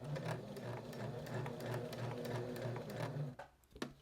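A sewing machine stitching fabric for a simple car freshener runs in a steady, fast mechanical whir with rhythmic needle ticks, close and fairly quiet, then stops abruptly near the end with a couple of small clicks.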